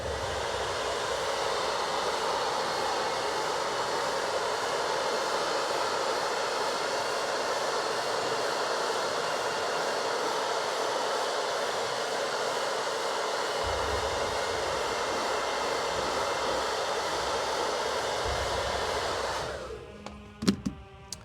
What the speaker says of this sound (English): blast the till real quick with the blow dryer